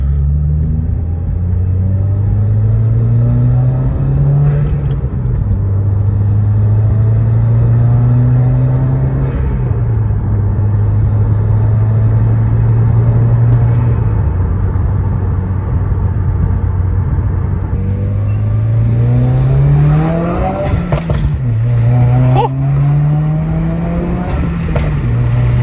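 A 2019 Subaru WRX fitted with a Remark mid pipe exhaust, recorded close and loud, its engine revving up and falling back repeatedly in long deep sweeps over a low idle rumble, with sharper quick blips toward the end.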